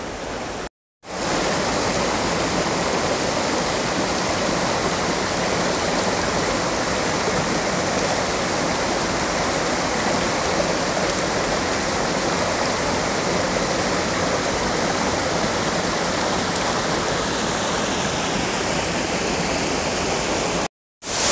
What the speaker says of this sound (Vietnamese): Phía sau lưng của quý vị đây là con suối từ trên đầu nguồn chảy xuống